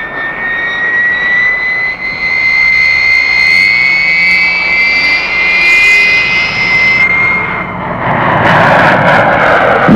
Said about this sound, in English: your first ride in an Air Force jet